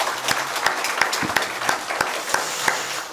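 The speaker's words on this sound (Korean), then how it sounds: "이런 복을 누리게 하신 우리 하나님께 박수로 감사하겠습니다" A church congregation applauding at a women's devotional service, a dense, steady patter of many hands clapping close by at even loudness throughout, with a faint voice underneath.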